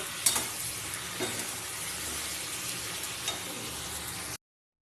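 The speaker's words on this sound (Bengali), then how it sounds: "শুধু এটা নাড়াচাড়া করে কষিয়ে নিতে হবে ভালো করে" Mixed vegetables stir-frying in a pan with salt and turmeric, giving a soft, steady sizzling hiss with a few faint scraping stirs, quiet and close, with no voices.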